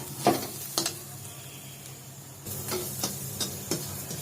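Dal cooking in a pan after salt is added: a soft, continuous low sizzle broken by a handful of sharp clinks and scraping stirs of a utensil against the pan, close by.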